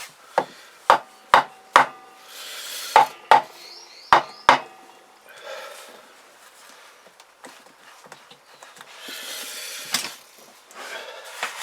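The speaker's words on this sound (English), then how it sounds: "A wooden hammer under there." Sharp wooden hammer knocks strike a Kawasaki GPZ500 engine's metal water pipe in quick bursts, several clustered taps then a pause, followed by quieter shuffling and clinks, close by.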